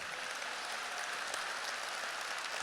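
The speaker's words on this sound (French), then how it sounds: "On peut applaudir pour de vrai." Dense, steady applause from an audience at a 20th-anniversary gathering, a continuous hiss of many hands clapping at a fairly distant, even level throughout.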